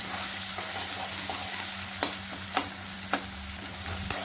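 Finely chopped medium onion stirred and sizzling in a pan for tadka Maggi, a steady close fry with a few sharp scraping clicks of the spoon against the pan.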